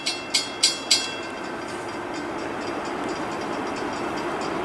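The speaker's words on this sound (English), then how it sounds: "We got the Amtrak 53, the auto train." Amtrak 53, the southbound Auto Train, passes. Four sharp rhythmic clacks of wheels on rail joints open the clip, followed by a steady, fairly faint rolling rush of the long consist going by.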